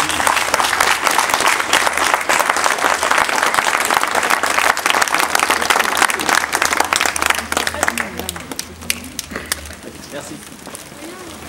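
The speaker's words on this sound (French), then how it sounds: "Encore une fois, je vous applaudis." A crowd at an outdoor march held over a worrying disappearance in Saint-Romain-sous-Gourdon claps loudly and steadily, thinning toward the end, with some voices mixed in.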